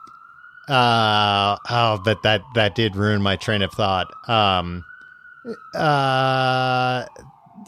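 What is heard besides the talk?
ambulance siren passing by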